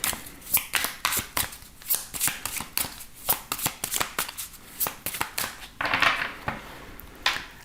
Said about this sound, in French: on va voir les messages avec cet oracle et on prendra aussi des petits cœurs